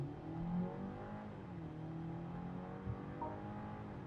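A 2024 BMW 530 Li sedan accelerating hard from a standstill toward 100 km/h in a controlled setting, its engine note rising steadily in pitch as heard from inside the cabin, continuous and moderately loud with no talking.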